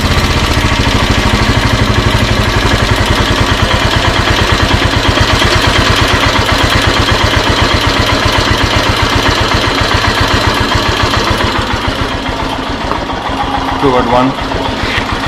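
Royal Enfield Himalayan single-cylinder motorcycle engine idling after carburetor tuning, a loud steady close-up thumping beat at low revs that holds throughout and softens slightly near the end.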